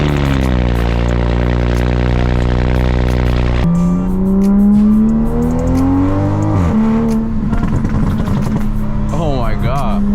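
A Toyota Supra engine on a cold start idles with a deep steady drone, then rises into a loud revving note that climbs and settles, with a person talking over it throughout.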